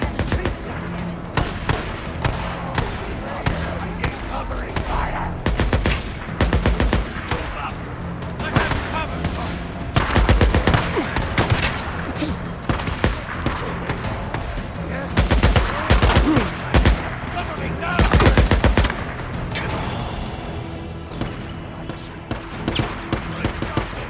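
Bursts of automatic gunfire and scattered shots from a firefight in the video game Days Gone, loud and uneven with heavy volleys, mixed with game voices shouting.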